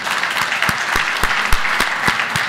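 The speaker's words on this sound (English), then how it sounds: "Let's give a round of applause to our panel." Sustained audience applause for a panel at a medical patient and physician summit session on Waldenström's macroglobulinemia, dense steady clapping from a room full of people with some louder individual claps standing out.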